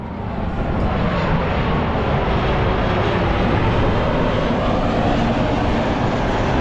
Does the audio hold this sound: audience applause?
no